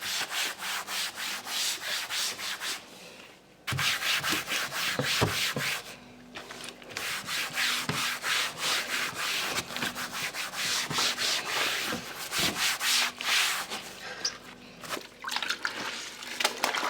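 Rhythmic back-and-forth scrubbing of wooden floorboards using Flash natural soap, close and fairly loud, with rapid strokes running almost continuously and a short pause near the start.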